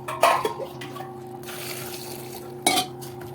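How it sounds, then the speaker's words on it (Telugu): Water splashes briefly into a bowl twice, short pours with clinks, separated by a quieter stretch with a faint hum. "ఒక గిన్నెలో వేసి పెట్టుకోవాలి గ్రేంజ్ అంటే దీనికి సరిపోయే వాటర్ పోసుకోవాలి"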